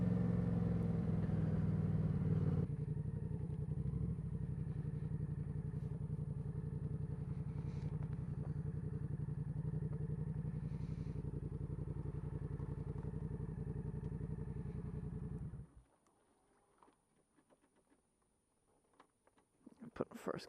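A motorcycle engine runs close by with a steady, loud rumble for about fifteen seconds, then cuts out abruptly, leaving quiet handling clatter and a few faint knocks.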